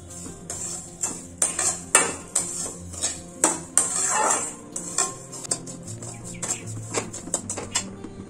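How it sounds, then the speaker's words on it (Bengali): Sugar stirred into roasted semolina in a pan, the spoon clinking and scraping against the metal in a steady run of sharp taps and scrapes, close and moderately loud, with no talking. "এবার চিনিটাকে আমি খুব ভালো করে একসঙ্গে মিশিয়ে নিচ্ছি।"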